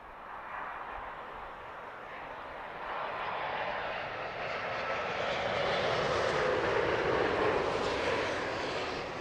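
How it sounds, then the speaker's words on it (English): Oman Air Boeing 787 Dreamliner arriving at Heathrow, a broad rushing jet roar that swells steadily as it draws nearer, distant at first and growing louder, with no voices. "we've also got another 787 Dreamliner coming in from Muscat and an Oman Air"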